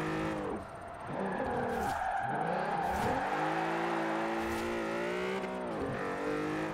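A car engine in Forza Horizon 4 revs and whines as tires screech through a drifting turn, the pitch sliding up and down, loud and continuous.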